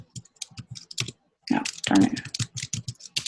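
Quick, uneven clatter of keys on a computer keyboard as a command is typed, close and crisp, broken by a short pause; a voice briefly mutters over the clicking.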